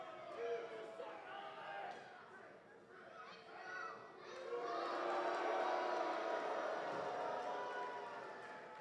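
A wrestling arena crowd cheers for Matt Cardona, a low murmur of chatter that swells into a louder, sustained roar midway before easing off.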